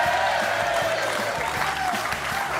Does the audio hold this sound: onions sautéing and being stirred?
no